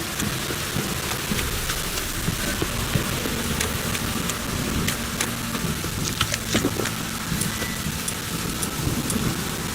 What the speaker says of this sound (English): Don't stop raining, my arse will rip off.